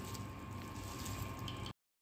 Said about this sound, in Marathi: अशा पद्धतीने तुम्ही पाणी काढून घ्या।